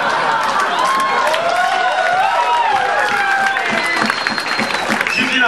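Women in a comedy club audience break into sustained applause, with dense clapping mixed with scattered cheers and crowd noise that continues steadily throughout.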